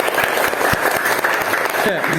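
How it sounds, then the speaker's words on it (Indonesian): Students in a classroom applauding together after an ice-breaking activity, a steady, dense clatter of many hands that runs throughout, with a faint voice starting near the end. "terima kasih tepuk tangan buat kalian semuanya"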